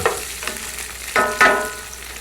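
Tofu chunks fry in a pan with a steady sizzle, and a spoon scrapes and stirs them in a few distinct strokes, close and clear with no voices.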